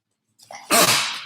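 A single sharp sneeze, close and loud, with a short intake of breath just before it and no talking.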